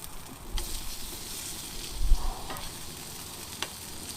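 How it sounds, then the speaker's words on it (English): Chili frying on a hot tent stove at an outdoor bushcraft camp under an oilskin tarp, a steady close sizzle with occasional stirring scrapes and soft clinks, no talking. "that chili's definitely frying now."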